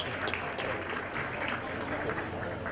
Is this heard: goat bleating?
no